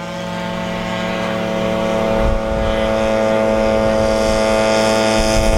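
Yellow and black MBK 51 moped racing at Chambley circuit, its small two-stroke engine a loud, sustained buzzing drone that holds a steady pitch close by.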